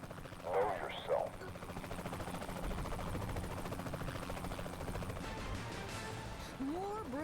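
Helicopter in Saints Row The Third, a steady rotor drone and chop holding throughout at moderate level, with brief game effects and a short voice-like burst near the start.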